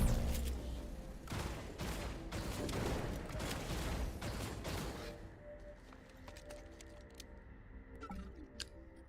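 Rapid bursts of mag pulse rifle fire from the System Shock video game, loud and dense for about five seconds before tapering into scattered lighter clicks and ambient hum.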